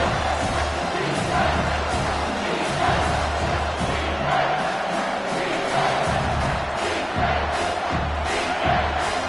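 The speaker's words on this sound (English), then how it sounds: "Third down, and this crowd is tearing the lid off this place." A packed stadium crowd roars on third down in a college football video game, Washington versus Boise State, a loud, sustained wall of cheering and yelling with no break.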